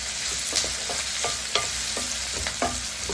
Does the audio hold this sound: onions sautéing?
yes